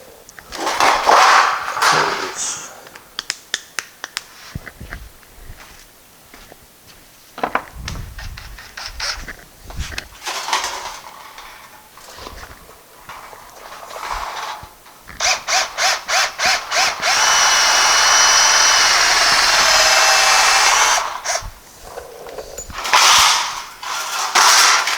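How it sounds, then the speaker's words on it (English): A power drill bores holes at dimpled marks during cooling work on a 1955 car, running in repeated short bursts and then one long steady whine, loud and close, with brief pauses between. "All right, let's drill those."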